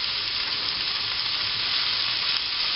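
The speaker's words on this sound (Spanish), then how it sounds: "al saltearla así, se nos va a quedar dulce" Onion sautés in a frying pan with a steady, loud, even sizzle that holds without pause and without any talking.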